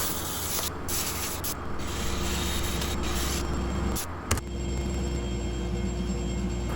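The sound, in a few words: sanding a wooden burl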